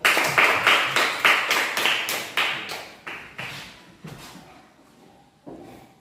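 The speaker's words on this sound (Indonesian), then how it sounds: "Silakan tepuk tangan." A classroom of children claps in rhythmic, evenly spaced bursts, about a dozen sharp claps that gradually fade and thin out toward the end, close and without talking.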